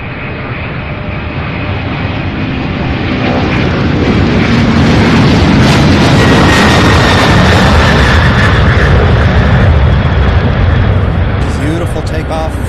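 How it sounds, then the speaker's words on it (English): An MD-11 takes off at Louisville International Airport, its engine roar building into a loud, sustained broadband rumble that holds steady for several seconds. Speech is heard faintly. "Look at this, an MD-11."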